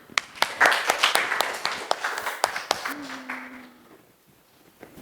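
Schoolchildren in a classroom geography lesson give a short burst of scattered clapping that fades out after a few seconds, leaving quiet room tone.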